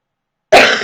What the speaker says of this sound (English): Sorry, I have a cough again.